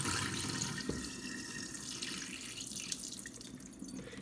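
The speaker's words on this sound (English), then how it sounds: "I just will pour this water off." Water pours off rinsed pinto beans into a kitchen sink, a steady splashing rush with a few drips, continuous and close.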